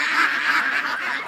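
Ducks in a pen by a lake quack in a busy, overlapping chorus of nasal honking calls, close and moderately loud, with no speech.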